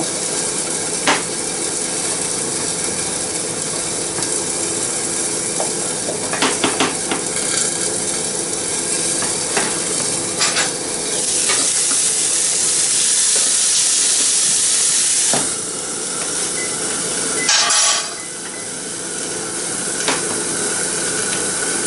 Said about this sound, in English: Still stirring, like in old risotto, on the heat, off the heat, on the heat.